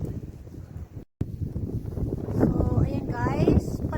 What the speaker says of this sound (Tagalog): palakas ang snow. Grabe at saka may hangin